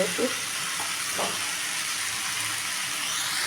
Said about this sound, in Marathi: कांदा टोमॅटो कोथिंबीर कडीपत्ता छान परतून झालेला आहे